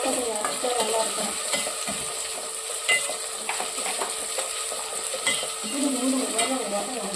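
Onions sauté in a pan for a sembadaka fish curry, a soft continuous sizzle with occasional light clinks and stirring sounds.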